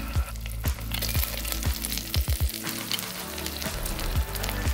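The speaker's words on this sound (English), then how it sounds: "So now we're going to add 4 tablespoons of butter." Butter melting and sizzling in a very hot pan for banoffee pie, a steady close frying crackle with several sharp knocks and clatters from the pan, with no talk.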